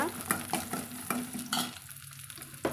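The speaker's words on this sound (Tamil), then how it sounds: "சின்ன வெங்காயம் வந்து சேர்த்துக்கலாங்க சேர்த்துட்டு கலந்துட்டுக்கலாங்க" Small onions being stirred into hot oil in a cooking pot for a Tamil ash gourd curry, with repeated spoon scrapes over a steady close sizzle, no voices.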